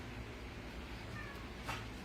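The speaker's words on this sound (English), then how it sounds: "My cat's wanting to eat." A hungry house cat meows faintly in a kitchen, a single drawn-out call rising briefly above steady background noise.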